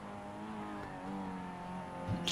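A Mazda MX-5 race car engine lapping Bathurst, a steady tonal engine drone heard from inside the car at moderate level, rising slightly near the end with a brief sharper burst.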